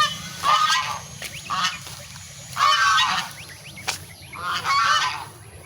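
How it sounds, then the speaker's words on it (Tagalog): Hungry domestic geese honk loudly in repeated bursts close by, several overlapping calls rising and falling in a rhythmic series over quiet farmyard background. "Gutom na mga gansa."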